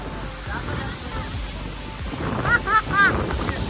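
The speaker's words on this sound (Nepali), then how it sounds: "यता पुरा वाइल्ड हावा चलिरहेको छ।" Gusty wind roars and buffets the microphone in a steady rumble outdoors in Nuwakot, Nepal, with voices faintly heard underneath.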